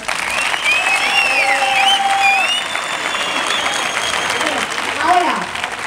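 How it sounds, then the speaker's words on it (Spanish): Audience applause at a street rally in Donostia, a steady, dense clatter of many hands clapping, with shrill whistle-like tones rising over it and a brief swell near the end. "Estamos con los aplausos"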